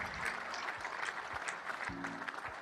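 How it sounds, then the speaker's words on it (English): Audience applause for a defence-export panel at Defexpo 2022, a steady dense patter of many hands filling the hall at moderate level, with a brief murmur of voices near the end. "a huge round of applause for all our panelists"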